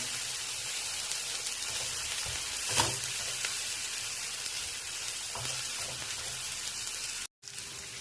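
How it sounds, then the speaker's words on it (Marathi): Chopped onion and capsicum sautéing in a pan for masala pav, a soft, steady crackling sizzle close by with occasional scraping stirs and one brief drop-out near the end. "मी ही जी शिमला मिरची घेतली होती ती टाकते आणि ती पण आपल्याला एक मिनटं परतून घ्यायची आहे"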